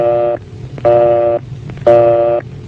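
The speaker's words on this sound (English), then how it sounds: "If the line is busy, you'll hear this busy signal." Old landline telephone busy signal: three long steady tone bursts with short gaps, clear and close, repeating in an even on-off rhythm.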